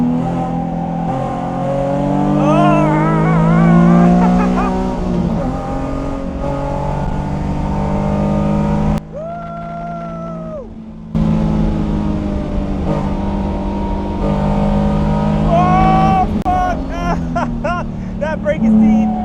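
A Nissan S13 track car with a swapped VQ35HR engine roars loudly from the cockpit, revving and blipping through downshifts with rising and falling pitch, a brief lift in the middle, while a driver talks and whoops over it.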